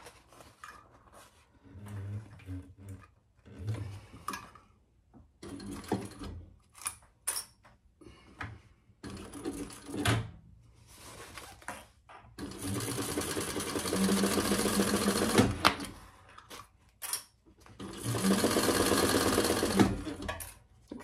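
A sewing machine runs in bursts while basting a zipper in place for a commuter bag, with short stitching runs and then two longer sustained whirring passes, close and loud, broken by handling clicks.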